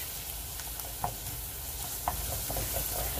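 Onions fry in a pan on low heat, giving a steady, even hiss of sizzling with a few faint pops, fairly quiet and continuous throughout.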